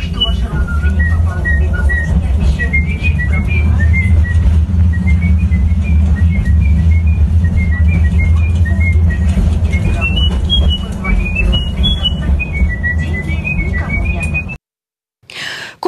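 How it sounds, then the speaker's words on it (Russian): A man on a tram whistles classical tunes, like old silent-film melodies. The quick, bright, wavering notes run for about fourteen seconds over a low rumble of the moving tram, then stop abruptly. "Парень насвистывает классические мелодии, например, из немого кино."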